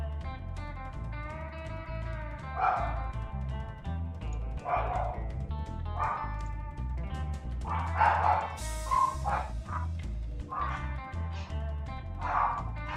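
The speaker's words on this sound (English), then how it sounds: "I don't know if you guys can hear my dogs barking in the background" Several dogs bark and yip in bursts in the background, repeated over a steady musical bed, fairly faint and intermittent.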